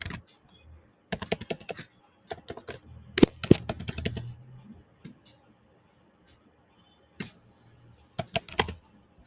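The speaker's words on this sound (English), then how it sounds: "I'm just randomly going to type something." Someone taps keys on a computer keyboard in short irregular bursts of clicks, close and crisp, separated by stretches of near silence.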